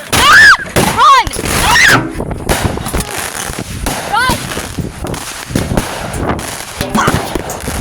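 Mortar-style fireworks burst at close range in several loud, sharp cracks with whistling rising streaks between them, while people shout and scream in panic throughout.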